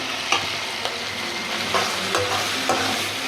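Chicken pasta ingredients frying in a pan, a bright steady sizzle close up, punctuated by a handful of spatula scrapes and taps, no one speaking.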